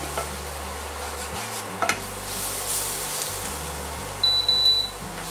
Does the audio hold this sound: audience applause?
no